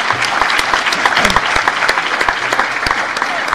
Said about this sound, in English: I'd like to ask you to give a big hand of applause to Nicolas Smit for being here